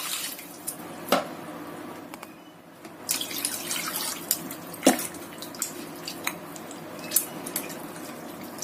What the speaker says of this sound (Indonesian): kita cuci sampai bersih